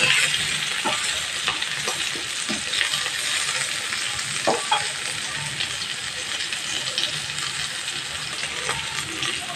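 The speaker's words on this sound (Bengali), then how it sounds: "আলু ভাজা হয়ে গেছে" Potatoes sizzle steadily in a hot pan while a spatula stirs them, with occasional sharp scrapes and clinks against the pan, loud and close, no talking.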